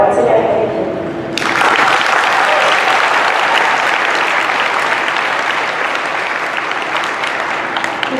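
A school assembly audience breaks into loud, sustained applause that starts abruptly and fills the hall steadily for several seconds, with faint speech at the very start.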